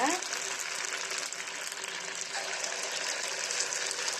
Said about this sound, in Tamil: குட்டி போண்டா போட்டுக்கலாம் அடுப்பை வந்து நல்லா ஸ்லோ பண்ணி வச்சுக்கோங்க